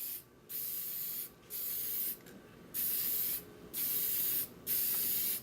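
Lacquer sprayed onto a wood-turned piece in five loud, close hissing bursts, each lasting about half a second to a second, separated by short pauses, with no talking.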